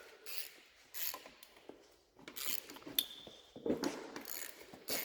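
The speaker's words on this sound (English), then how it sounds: "torquing these down to 530 foot-pounds each" A torque wrench ratchets while tightening engine bolts on a newly installed motor in a 1967 Ford bumpside pickup. Quiet, intermittent bursts of mechanical clicking come close by, separated by short pauses.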